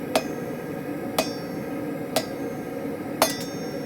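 A hammer strikes a hot cut chisel on steel at a blacksmith's forge, four bright ringing metallic blows spaced about a second apart, the last followed by a quick lighter tap, over a steady low roar of background noise.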